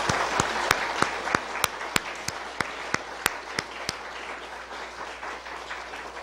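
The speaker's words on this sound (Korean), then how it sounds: "다시 한번 박수하겠습니다." A church congregation claps together after a Sunday evening service, a dense wash of applause with a few sharp individual claps standing out before it thins and fades toward the end.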